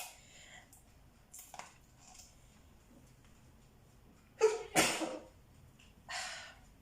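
A sharp sneeze bursts out after some quiet breathing and small sounds, followed by a softer snort or sniff a moment later.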